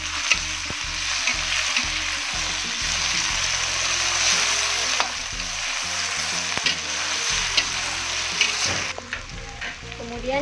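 Chili, ginger and tomato are stirred in a sautéing pan for a bottle gourd stir-fry, with a steady close sizzle of frying under repeated scraping and clattering strokes of a utensil against the pan.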